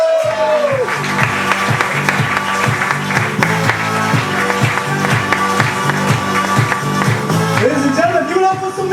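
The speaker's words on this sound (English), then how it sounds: "Big round of applause for Jamal." Comedy show audience applauding and cheering, a sustained crowd roar with clapping over rhythmic background music at a club, loud and continuous.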